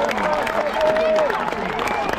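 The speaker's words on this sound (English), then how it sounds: "can I have a massive round of applause, please, for the reenactors of the Battle of Evesham" An outdoor crowd at the Battle of Evesham reenactment applauds the reenactors, a steady spread of clapping and crowd noise with voices and a high whistling tone running over it.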